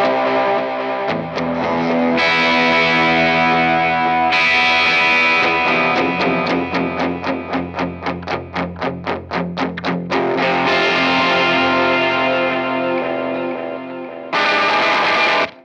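A Gibson Government Series Flying V electric guitar plays loud and close through an amp with a driven, effected tone. Sustained chords give way to fast rhythmic strumming, then ring out again.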